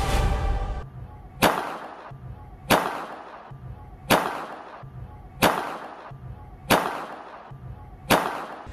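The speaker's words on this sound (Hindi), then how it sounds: "माही चौधरी ने चलाई गोली" Sharp, loud gunshots ring out at an even pace, seven cracks in a row about every second and a half, each one followed by a short decaying echo, with a low hum running underneath.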